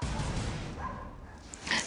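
A mother dog gives a short, fairly faint bark near the end, after a stretch of low background rumble in an indoor home setting.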